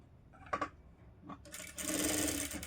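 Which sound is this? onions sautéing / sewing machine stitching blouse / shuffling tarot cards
sewing machine stitching blouse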